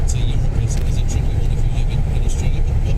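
A wedding car drives past near a golf hotel, a loud, steady engine hum and road rush up close, with faint voices beneath it.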